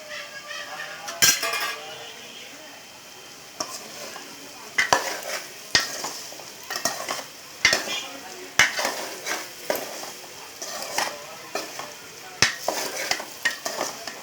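Coriander and cumin fry in a pan, giving a soft continuous sizzle broken by frequent sharp clinks and scrapes of a utensil stirring against the metal.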